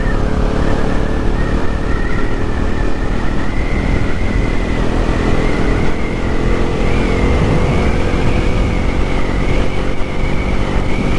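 A Bajaj Pulsar NS400 motorcycle pulls in sixth gear at speed, a loud steady engine drone with a rising whine and heavy wind rush, constant throughout.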